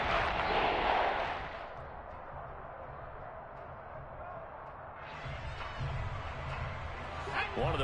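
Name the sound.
football stadium crowd cheering before a big third down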